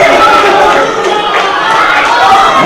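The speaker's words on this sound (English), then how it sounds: "Let's just listen to the crowd react to this action." A loud arena crowd at an NWA World's Championship wrestling match between Adam Pearce and Colt Cabana roars and shouts continuously, a dense wall of cheering and yelling voices filling the hall.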